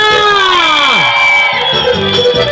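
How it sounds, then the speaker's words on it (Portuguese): A crowd at a quadrilha square dance raises a loud, sustained shout that swoops downward before breaking into scattered whoops and cheering voices. "Cadê o grito da quadrilha?"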